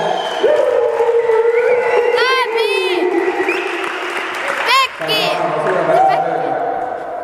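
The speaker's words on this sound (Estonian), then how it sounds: "teeks ühe suure aplausi Arturile, kes korraldas selle ürituse" A crowd at an outdoor jam event in Vastseliina applauds and cheers the organiser, with loud whoops and shouted voices rising over steady clapping before it tapers off.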